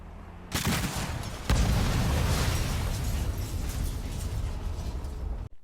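Video game weapons set off explosions, with an abrupt blast followed by a second heavy boom that rolls into a long, loud roar of rumbling debris before cutting off.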